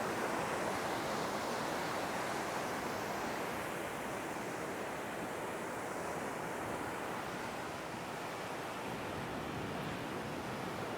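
Sea waves wash where the sea and a river meet near Akkaraipattu, Batticaloa, making a continuous, even surf hiss with some wind, moderately distant and unbroken by voices.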